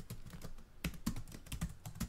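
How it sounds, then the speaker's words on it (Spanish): Computer keyboard typing, a stock sound effect, with a quiet, irregular run of soft key clicks and a few sharper taps, close and alone with no voices. "ahora sí se nos oye solo el tecleo sin más"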